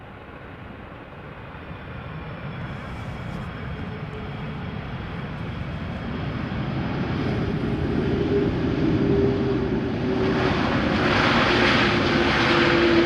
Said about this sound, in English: this is an A330. It is from KLM. It is arriving from Vancouver, Canada.